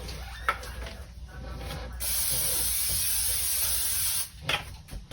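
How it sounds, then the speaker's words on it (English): Cooking spray hissing onto a hot pan on the stove, a steady loud spray lasting a couple of seconds after a brief quieter one, with kitchen clatter around it. "just give it a little spray"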